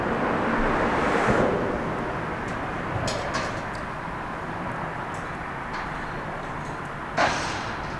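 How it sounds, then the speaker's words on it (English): Steady broadband wind gusts across an exposed bridge catwalk at night, a constant rushing roar with a few brief clicks and a short louder gust near the end, no talking. "the wind is blowing pretty good now"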